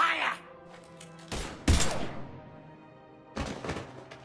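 Gunfire erupts in the video game Mass Effect 3: two sharp, loud bursts of shots with heavy thuds, separated by quieter gaps.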